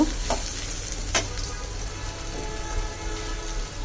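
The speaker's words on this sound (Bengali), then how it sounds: "ভালো করে নেড়ে ছেড়ে নেব।" Whole spices and bay leaves fry in hot oil for a beef liver bhuna, giving a dense, continuous sizzle punctuated by a few sharp stirring scrapes.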